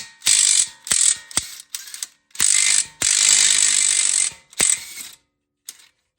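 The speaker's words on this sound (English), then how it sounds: "go ahead and remove these two bolts that holds the shock strut together" A ratchet works loose the 22mm bolts and nuts holding the shock strut on a 2013 Nissan Pathfinder during lower control arm replacement, sounding in several close, loud bursts of rapid clicking separated by short pauses.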